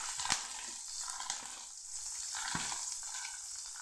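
Onions and Byadagi chillies fry in a pan for a chitranna tempering, producing a quiet, steady sizzle with a few brief clinks and stirring sounds.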